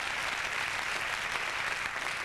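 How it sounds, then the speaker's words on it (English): Studio audience at a 1997 late-night talk show applauds in a brief, dense burst of clapping, steady and loud with no voices heard. "Let him applaud a little bit."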